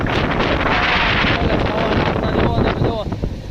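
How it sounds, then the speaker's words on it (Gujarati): Strong gusty wind sweeps across a farm field during an unseasonal rain shower, roaring as loud, steady buffeting on the microphone, with a voice faintly heard beneath it near the end. "પવન અને વરસાદના છાંટા"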